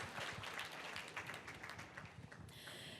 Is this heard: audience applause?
yes